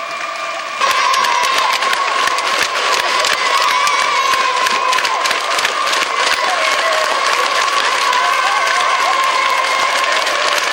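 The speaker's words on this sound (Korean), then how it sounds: "또다시 우렁찬 만세 환호성이 경기장의 하늘가에 메아리쳐 갔습니다." A large stadium crowd bursts into loud, sustained cheering and applause after a football match won 5 to 4, a dense roar of clapping and shouts that holds steady for about ten seconds.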